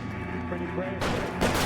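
Gunfire in an L.A. Noire shootout, sharp shots bursting in after a stretch of game ambience with voices, two loud broadband cracks about half a second apart near the end.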